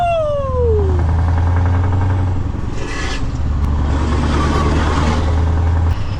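A truck engine revs hard under acceleration, its loud drone climbing in pitch and then holding steady with road and cabin rumble, close and continuous without speech.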